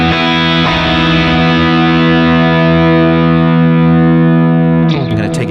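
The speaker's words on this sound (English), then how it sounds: "so we just have this chorus now coming on" An electric guitar played through a chorus effect on an HX Stomp, a loud sustained chord ringing with a wide, shimmering tone for about five seconds before fading, then a few brighter picked notes at the end; no talking.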